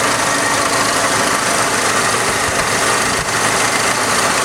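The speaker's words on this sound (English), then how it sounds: "That even kind of sounds like an old Ford product. Modern Ford engine." A modern Ford engine fitted in a 1929 Ford Model A Roadster runs at a steady idle, a loud, even hum and buzz with slight vibration and no talking.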